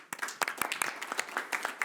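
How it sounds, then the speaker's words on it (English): Light scattered clapping from a small audience at a World Health Assembly side event on dengue fever, a sparse and uneven patter of individual claps, fairly faint and close. "a round of applause for Benjamin"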